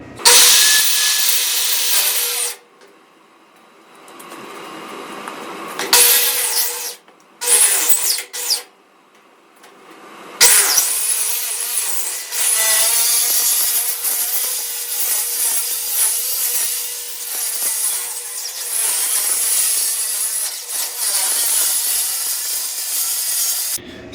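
Sheet metal being cut for boat walls and floor rasps loudly in long harsh passes, broken by short pauses, with a grinding, scraping edge throughout.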